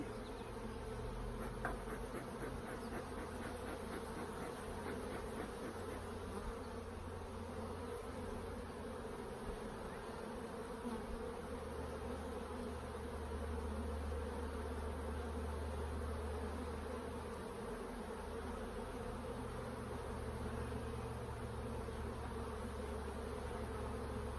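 A dense, steady buzz of many honeybees in an open hive hums continuously at close range, a low droning swarm with no talking.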